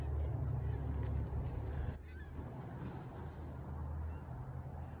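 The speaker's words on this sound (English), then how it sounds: "I hear ducks or something." Several geese or ducks honk repeatedly in the distance over a steady low rumble of outdoor background noise.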